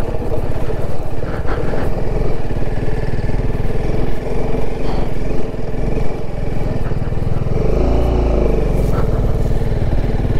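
A motorcycle engine drones loudly and steadily while riding a mountain road toward the Rezang La war memorial near Chushul, with continuous close engine roar and wind rumble throughout.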